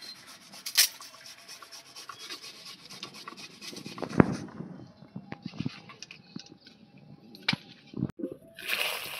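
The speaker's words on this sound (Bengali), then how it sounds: "তার জন্য আমি গ্রেটার দিয়ে ভালো করে গ্রেট করে নিচ্ছি" Onion rubbed against a kitchen grater for a smooth paste, a close, dry rasping texture in repeated strokes with a few sharper scrapes and clicks.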